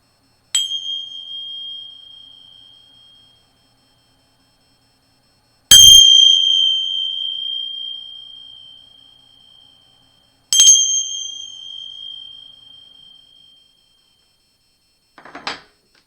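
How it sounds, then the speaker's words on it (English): Three loud cymbal clangs, each a bright ringing strike that slowly decays into silence, evenly spaced and close, followed by a faint rustle. "You're going to hear 3 loud clangs just with these symbols."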